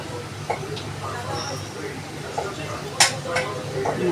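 Scraping and stirring sounds come from a pan while chicharon is cooked, soft and intermittent over a low kitchen hum, with a brighter metallic scrape near the three-second mark.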